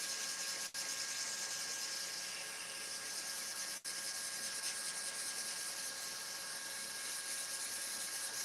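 Pen blanks coated in a CA finish being scratched and scuffed to strip the glossy layer, a faint, continuous dry rubbing hiss broken by two short pauses.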